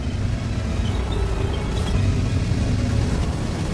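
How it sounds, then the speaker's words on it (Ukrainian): Low, steady rumble of a World of Tanks tank engine with track noise, effects recorded from real armoured vehicles at the Bovington tank museum; a continuous dense drone with no voices, loud and close throughout. "З новими ефектами двигунів і гусениць машини звучать по-різному."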